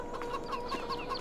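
Chickens cluck in the farming game Farming Simulator 22, a quick run of soft, repeated bird calls heard close by with no one talking over them.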